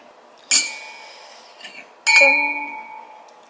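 Two wine glasses meet in a toast twice, each a bright ringing clink that lingers and decays, with a soft faint tap in between against a quiet room.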